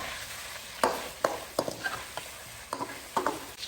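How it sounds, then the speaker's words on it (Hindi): Chicken cooks in oil over a low flame for dahi gosht, giving a soft steady sizzle with a few sharper scrapes and stirs at irregular intervals, close and alone. "आराम से लो फ्लेम के ऊपर ऑयल के साथ चिकन को पकाना है"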